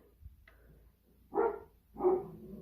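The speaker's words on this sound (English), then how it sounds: "the dogs are barking at the gate" Dogs bark at a gate, two separate short bursts about a second apart, somewhat distant and moderately loud over a quiet background.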